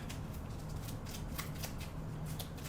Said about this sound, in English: we're going to shuffle our event deck